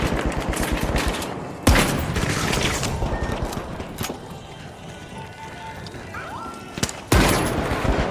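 Gunfire in The Finals video game: dense bursts of rapid shots with a few sharp loud cracks standing out, continuous combat clatter throughout with no talking.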